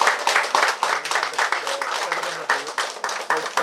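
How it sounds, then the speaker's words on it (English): An audience at an evening debating competition, the Single Pan Prelims South Central Region, claps for the executive committee. The applause is moderate and steady, with voices murmuring underneath. "please give them a round of applause"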